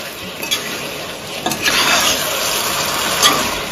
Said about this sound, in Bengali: লবণটাকেও আমি ভালো করে নেড়ে মাংসের মধ্যে মিশিয়ে দিলাম।